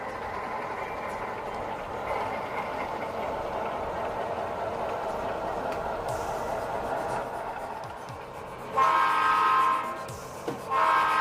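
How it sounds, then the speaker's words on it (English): A toy train built for a Skittles train challenge, with boxcars sorted alphabetically, pulls out under steady low rumbling and rolling noise, then a brief horn-like tone sounds near the end. "now our train's fixing to pull out"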